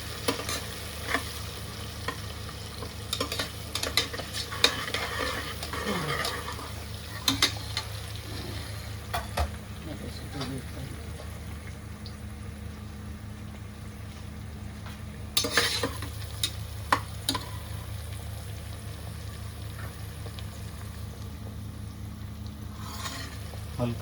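Masala frying and being stirred in a pan, a low steady sizzle with scattered scrapes and clinks of a spoon against the metal, some faint voices in the background.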